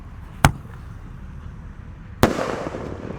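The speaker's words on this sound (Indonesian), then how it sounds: "Raja Wali Jumbo sudah menyala, siap meluncur teman-teman." A Raja Wali Jumbo firework rocket goes off outdoors: one sharp crack at launch, then a second louder bang about two seconds later that trails into crackling hiss and rumble.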